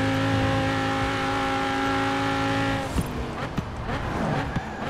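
An engine revs with harmonic tones in Forza Horizon 4, steady and loud for about three seconds before breaking into rougher, scattered mechanical noise and clunks.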